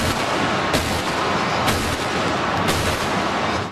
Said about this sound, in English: who shoots off fireworks in a dome stadium?